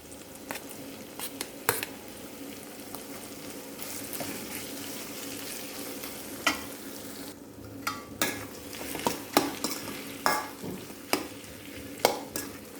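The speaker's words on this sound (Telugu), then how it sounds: "వేసుకున్న బంగాళాదుంపకి పోపు అంతా పట్టేలాగా బాగా కలుపుకోండి." Boiled potatoes are stirred in a pan of hot tempering with turmeric and salt, giving a steady soft sizzle broken by repeated scraping, clacking stirs that grow more frequent toward the end.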